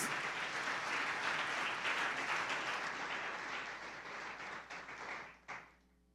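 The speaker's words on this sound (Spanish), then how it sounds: "Dele un aplauso al Señor." A church congregation applauds the Lord, a sustained wash of many hands clapping that fades out near the end.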